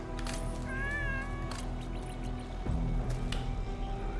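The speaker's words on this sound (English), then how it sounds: "All I hear is this damn cat in the thing" A cat meowing inside the sci-fi game Arknights Endfield, a couple of faint drawn-out meows over a steady low hum of game ambience, with brief wet dripping sounds and no speech.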